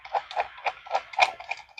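Rhythmic construction work next door, a steady series of hollow knocking or hammering hits about four per second, moderately faint and heard alone with no voices.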